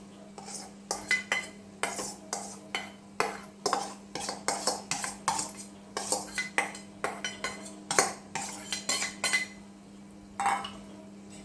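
Metal spoon clinking against a bowl while soaked poha is stirred into thinned curd, a series of close, uneven scraping and clinking strokes with brief pauses, no talking.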